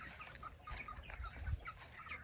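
Chickens and two roosters on a small farm with goats cluck softly in a short run of quiet, close calls outdoors.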